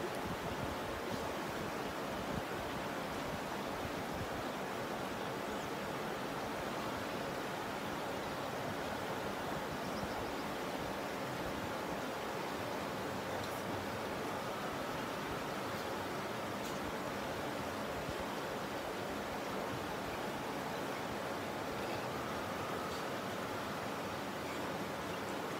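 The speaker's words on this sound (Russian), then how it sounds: "Мы находимся в местности под названием Букский каньон, река Бирский Тикич в Черкасской области." Water of the Hirsky Tikich river rushes steadily through Buk canyon in the Cherkasy region, a dense, unbroken roar that holds evenly throughout with no voices.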